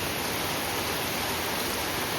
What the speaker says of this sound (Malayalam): മഴ ഇങ്ങനെ തകർത്ത് പെയ്തുകൊണ്ടിരിക്കുക.